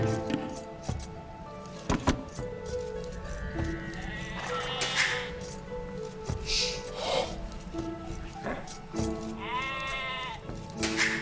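Sheep in Age of Empires II Definitive Edition bleat several times, near and clear, amid clicks and other game sound effects.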